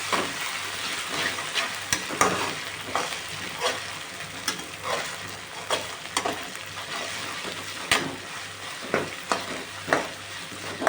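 Ginger paste fries in oil after curry leaves, making a continuous crackling sizzle up close, punctuated every second or so by scraping stirs of a spoon against the pan.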